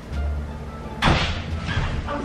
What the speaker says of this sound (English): Then stop slamming the doors.